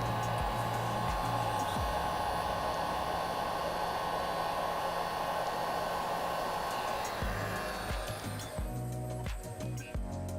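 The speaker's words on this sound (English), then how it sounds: "Use a heat gun or a hair dryer, whatever you have at home." A heat gun or hair dryer blows with a steady loud whoosh and motor hum while loosening an iPhone 6s Plus screen, then cuts off near the end, leaving quieter handling noise.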